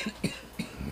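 Several short, soft coughs in quick succession, faint and close, with no other sound around them.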